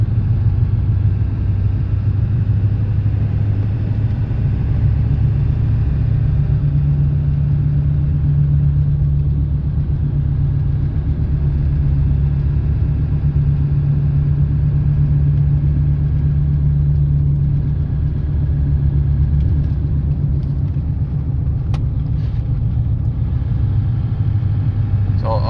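A 1997 Ford F-250 pickup with the 7.3 Powerstroke diesel pulls through its gears on an on-ramp, with a steady, loud low rumble from inside the cab that holds and builds across the clip.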